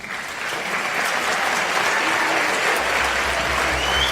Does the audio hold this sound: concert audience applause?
yes